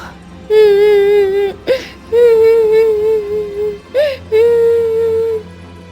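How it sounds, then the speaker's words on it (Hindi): A high, wavering wail of crying repeats in three long sobbing cries separated by short breathy gasps, loud and close with no other sounds. "ये किसके रोने की आवाज है?"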